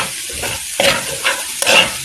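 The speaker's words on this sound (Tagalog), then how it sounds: "Kasi igisa muna natin yan." Garlic sautés loudly in a pan close up, a dense sizzle surging with each of three or four quick stirring strokes.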